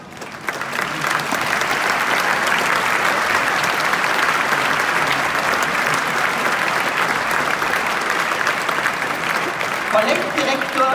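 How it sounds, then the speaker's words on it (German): Loud, sustained applause from a large crowd for the Graz Opera ballet at the Opernredoute ball in Graz, Austria, a continuous wash of clapping that carries on for about ten seconds, with a voice briefly audible near the end. "Applaus für das Ballett der Oper Graz."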